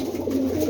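Domestic pigeons at a Rawalpindi loft keeping Pakistani breeds give a low, steady cooing that hums on without a break for a brief moment, close by and moderately loud.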